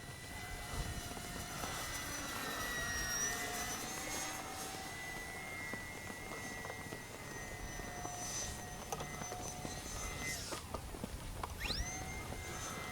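FMS PC-21 Pilatus RC model airplane flying overhead, a steady whining motor drone with shifting pitch as it passes and maneuvers, moderately loud throughout with no talking.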